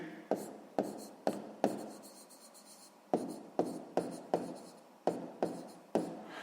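Handwriting on paper while working a sixth-grade percentage math problem: a series of short, distinct pen strokes in quick bursts, with a pause midway, close and fairly clear, with no voices.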